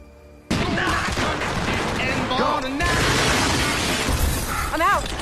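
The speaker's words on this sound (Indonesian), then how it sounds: "Baku tembak pun terjadi." Gunfire during a shootout in the film The Expendables 2, a sudden loud burst of rapid shots and crashing impacts that keeps going steadily, with shouting voices mixed in.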